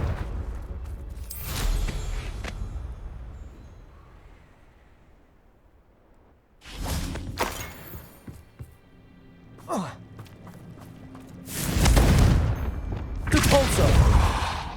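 Confringo fire-blast spell in Hogwarts Legacy: several sharp explosive bursts with rumbling tails land at intervals among quieter combat ambience, the later blasts loud and close, with a brief sweeping effect in between.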